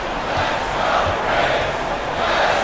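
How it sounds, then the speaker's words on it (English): A crowd roars and cheers at a basketball video game, with a dense, sustained swell of voices that rises and falls slightly and never fades out. "Listen to the crowd, yo."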